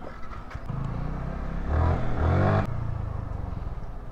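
A Yamaha R15 V3 motorcycle engine idles nearby with a steady low rumble, swelling briefly into a louder rev midway before settling back to idle, with no talking over it.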